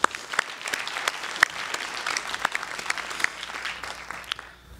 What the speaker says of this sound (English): So join me in just giving them all a round of applause.